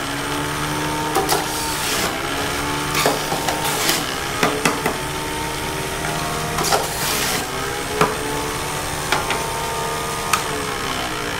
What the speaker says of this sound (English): that's how easy it is to juice with the Omega 4000 juicer